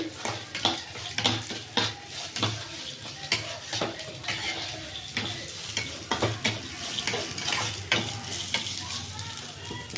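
Curry leaves and mint sizzle steadily in a hot pan for mint chutney. Repeated stirring scrapes and clinks sound up close over the constant frying hiss.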